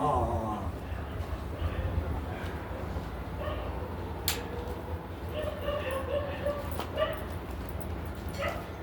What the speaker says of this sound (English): The dogs should go outside